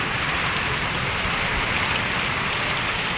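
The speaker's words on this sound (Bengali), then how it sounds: "মনে হবে বৃষ্টি আপনার ওখানেও হচ্ছে" Steady rain falls in a dense, even hiss of drops on surfaces, continuous and fairly close, with no voices.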